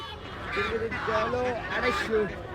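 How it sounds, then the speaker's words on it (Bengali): Geese at a village poultry market giving a series of nasal honks close by, several calls overlapping amid crowd murmur and talking. "বন্ধুরা দেখছেন এই যে রাজহাঁস"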